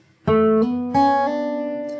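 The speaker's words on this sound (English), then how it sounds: "So after that you have this little fill which sounds like this." A short fingerstyle fill on acoustic guitar from a song: a plucked note, a quick slur upward, then a second struck chord left ringing, close and solo.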